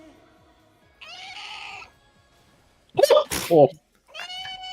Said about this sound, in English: Yeah, I also heard the creepy cat meow,